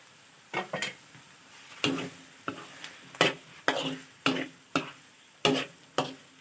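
Minced catfish stir-fried drunken-style in a wok with very little oil, cooked until nearly dry and catching on the pan bottom. A spatula scrapes in steady, fairly loud strokes about every half second over a faint background sizzle, with no talking.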